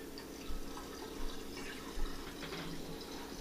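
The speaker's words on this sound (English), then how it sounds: "just top this up with some water" Water poured into a wine carboy to top up a kit wine after clearing, a steady running, filling wash with small splashy surges, close and fairly quiet, with no talk.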